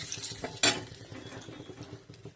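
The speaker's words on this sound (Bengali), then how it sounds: "ওই তেলের মধ্যে, যে তেলে মাছ ভেজে ওই তেলের মধ্যে দিয়ে দিলাম তেজপাতা" A bay leaf drops into hot oil already used for frying fish, giving a sharp burst of sizzle that settles into a soft crackle alongside faint stirring and clinks of utensils.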